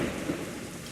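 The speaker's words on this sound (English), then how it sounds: "This storm's getting worse." A heavy rainstorm from the video game Assassin's Creed Rogue roars steadily with low rumbling thunder, a dense, continuous wash of rain with no voices.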